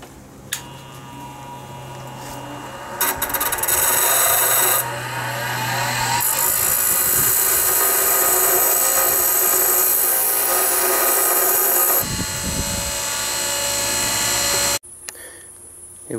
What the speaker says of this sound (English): And then I'm gonna grind the head flat with my grinder,